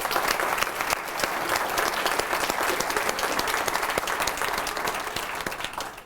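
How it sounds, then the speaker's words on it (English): Audience applause at a town hall speech, a sustained, dense wash of many people clapping together at a steady level from start to finish, with no talking on top. "Can we just give him a round of applause and say thank"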